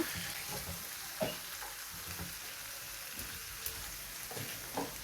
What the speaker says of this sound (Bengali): আমি এভাবে করে চুলার জালটা বাড়িয়ে ভেজে নিচ্ছি